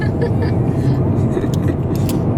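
A car rolling along the road to Biarritz, a constant low engine and tyre rumble heard from inside the cabin with no gaps.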